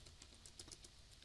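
Someone types code on a computer keyboard, a quiet, close patter of keystrokes that ends with one sharp, louder tap.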